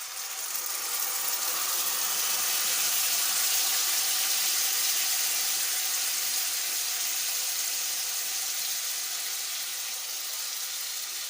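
Beetroot water being strained and poured while making paneer do pyaza, a steady broadband liquid rush like a running tap that stays even and close for the whole stretch, with no voices.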